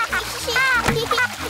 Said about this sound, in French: Bravo, mais n'éclabousse pas autant. Les grands enfants n'éclaboussent pas.